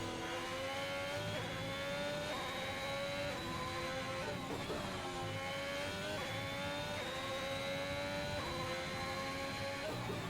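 F1 race car engine from the game F1 2021, a high continuous whine with pitch rising and falling through gear changes, a steady moderate drone heard alone with no talk.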